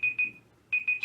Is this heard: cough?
no